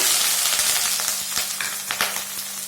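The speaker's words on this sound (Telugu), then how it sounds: "ఆనియన్స్ బాగా గోల్డెన్ కలర్ వచ్చేంత వరకు లేదా ఆనియన్స్ బాగా మెత్తగా అయ్యేంత వరకు ఫ్రై చేసుకుందామండి" Chopped onion fries in hot oil with cloves and green chillies as the base of an egg curry, giving a dense continuous sizzle with small crackles and pops, close and loud.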